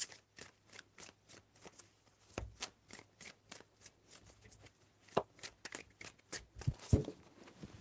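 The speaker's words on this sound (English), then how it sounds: "3 shuffles." Tarot cards shuffled by hand in a close, quick run of crisp papery riffles and snaps, each burst short and sharp, with a few louder slaps near the end and no talking.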